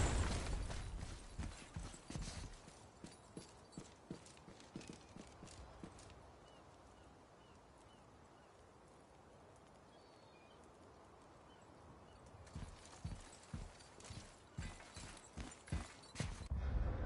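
Horse hooves clip-clop in the game God of War, a quick run of close steps at the start, a quiet stretch of soft ambience in the middle, then the hoofbeats return toward the end.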